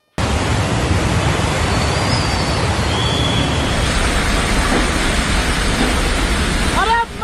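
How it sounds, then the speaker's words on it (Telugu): Heavy rain during the Uttarakhand floods, a dense loud continuous hiss of downpour that cuts off abruptly near the end. "పుల్లు వానలు పొట్టు దంచి వరదలతోటి అందరినీ భయపెడుతున్నాయి"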